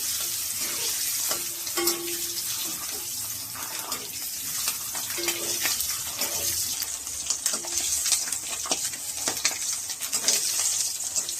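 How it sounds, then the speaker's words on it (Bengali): Eggs fry in hot oil in a kadai, giving a dense, steady hiss and crackle with scattered sharp pops and light utensil clinks throughout. "লাল লাল করে ডিমগুলো ভেজে নেবো আমি"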